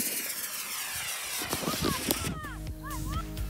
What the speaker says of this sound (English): I made a tipjet helicopter out of balsa and plywood parts that used model rocket engines to spin the blade and create lift.